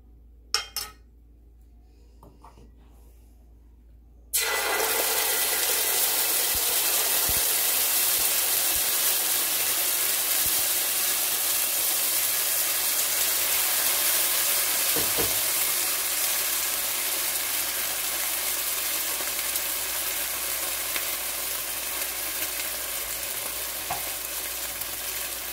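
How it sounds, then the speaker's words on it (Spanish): Sofrito hits a hot pot and breaks into a loud, steady sizzle that holds for over twenty seconds after a quiet start with a few small clinks, cooking for arroz con gandules. "Y ahora voy a agregar primero el sofrito."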